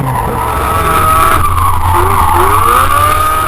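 A drift car at a D1NZ Drifting Championship round in Christchurch holds its engine on the rev limiter while its tyres skid. The result is a loud, continuous, near roar and squeal with no break.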